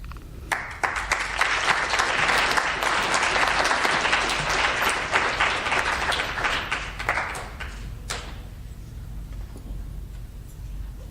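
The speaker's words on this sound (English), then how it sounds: "can we have another round of applause for all of those incredible performances?" Audience applause after high school poetry recitations at a Poetry Out Loud event, a dense burst of clapping that rises quickly, holds for about seven seconds, then thins out to scattered claps.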